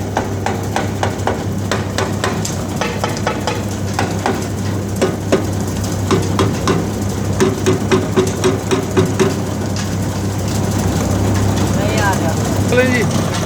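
A grinding machine milling ingredients for stomach powder runs with a constant low mechanical hum and rapid rhythmic clattering, loud and close, while someone talks over it.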